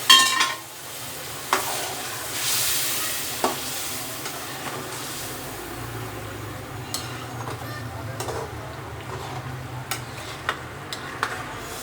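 Cooking liquid from boiled black chickpeas goes into a pan of roasting chana and is stirred, giving a low sizzle with a brief swell of bubbling and scattered clicks and scrapes of a spoon against the pan.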